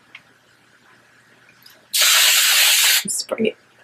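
One close, sustained hiss of aerosol hairspray on curly hair lasts about a second, preceded by quiet sounds and followed by a brief voice.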